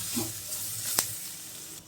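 Turmeric and chili powder being sautéed in a pan for a bitter gourd (pavakka) stir-fry: a soft, steady sizzling hiss with one sharp click from stirring.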